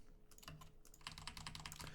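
Keys on a computer keyboard are pressed while saving work in Visual Studio Code, a quick, close run of light, crisp clicks with no talking.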